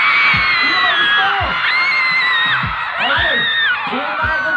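A crowd at an outdoor event in Maayon, Capiz screams and whoops together in a sustained roar, with rising shouts and yells overlapping, loud and continuous throughout.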